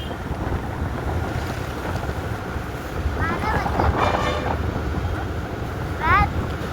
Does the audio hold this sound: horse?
no